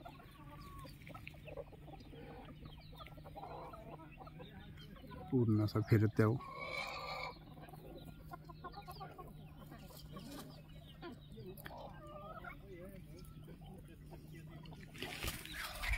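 Chickens cluck inside a poultry coop holding vaccinated birds, steady soft clucking throughout with a loud, drawn-out squawk midway, close by, while someone talks over parts of it.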